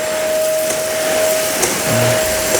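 A vacuum cleaner runs continuously during renovation cleanup, a loud, steady whooshing roar with a constant motor whine and small bumps and scrapes as the nozzle moves.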